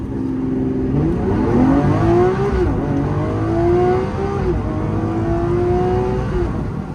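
A Lamborghini Aventador SVJ accelerates hard from a standstill toward 80 km/h, its engine note loud and close, climbing steadily through the revs with brief dips at gear changes.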